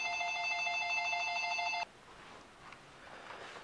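A home telephone rings loudly with a steady electronic warble for about two seconds, then stops abruptly and leaves quiet room noise.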